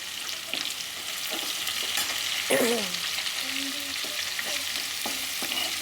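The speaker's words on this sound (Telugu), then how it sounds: "ఆనియన్ పచ్చిమిర్చి వేసుకొని ఫ్రై చేసుకోవాలి బ్రౌన్ కలర్ వచ్చేదాకా ఫ్రై చేసుకోవాలి" Onions and green chillies fry in hot oil for an egg and potato curry, giving a steady, loud sizzle with occasional scraping stirs throughout, and no voices.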